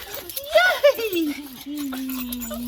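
Pet dogs greeting their returning owner, with excited whimpers and whines near the start and a long thin high whine drawn out afterward, heard close up.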